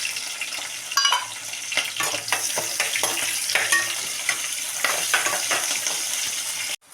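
Chopped onion fries in hot oil in a pan, a continuous close sizzle broken by repeated scraping stirs of a spoon, ending with an abrupt cut.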